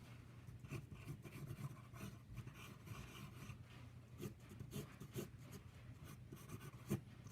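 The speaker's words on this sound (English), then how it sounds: "I'm just going to sketch that thing in there real quick." Pencil sketching a drawing, quiet continuous scratchy strokes rubbing across paper in a steady rhythm with occasional firmer marks.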